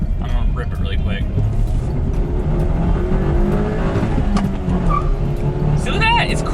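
A $1,000 Mazda 3 project car being driven hard, its engine revving and pulling as it accelerates, loud and continuous with rising tones, with a voice briefly heard over it.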